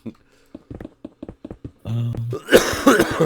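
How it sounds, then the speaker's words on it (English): A man coughs several times in short bursts, close and fairly loud, followed by noisier throat-clearing sounds at the end. "Man, this cough."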